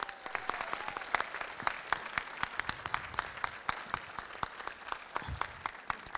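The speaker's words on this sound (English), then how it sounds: "A round of applause for our amazing," Veterans are applauded by an audience at a Korean-Era and Vietnam-Era veterans awards ceremony in Groton. Dense, steady clapping from a hall crowd carries through the whole stretch, moderately loud with many overlapping sharp claps.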